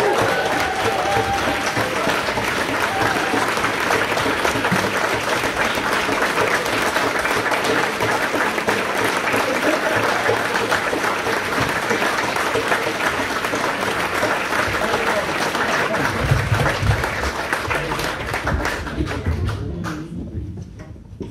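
Audience applause at a folk concert celebrating a folk band, a sustained dense round of clapping from a large indoor crowd lasting about twenty seconds, loud and even before tapering off at the end.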